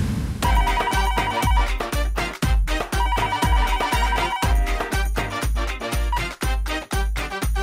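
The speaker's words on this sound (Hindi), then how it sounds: "रिंग जा रही है।" Electronic ringtone of a telephone playing a loud, rhythmic beat-driven melody that repeats its pattern, steady and close with no voices over it.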